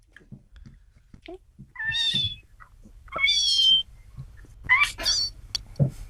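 A person imitates a cat, producing several drawn-out meows in short bursts with pauses between them, close and clear, in a French talent-show setting.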